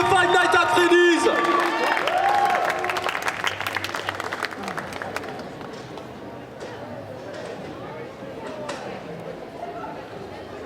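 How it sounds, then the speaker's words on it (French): A festival crowd applauds and cheers a cosplayer in a Foxy costume from Five Nights at Freddy's at a cosplay contest, loud at first and then thinning to scattered clapping, with an announcer talking over it. "Vous pouvez l'applaudir à nouveau, messieurs, dames, faites du bruit pour Foxy de Five Nights at Freddy's."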